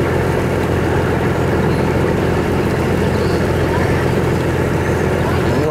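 Fishing boat engines at sea drone as the vessels slow down, a loud steady low rumble with churning water noise and no clear breaks.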